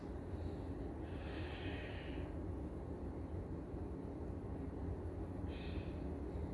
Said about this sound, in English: You're inhaling and exhaling.